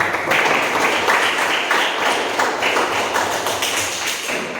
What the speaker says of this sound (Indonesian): kita semua kasih aplaus untuk kita